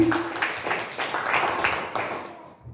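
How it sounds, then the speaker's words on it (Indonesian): Applause from a small audience at an Indonesian teachers' session, a handful of distinct claps with a faint voice at the start, fading out toward the end. "boleh tepuk tangan"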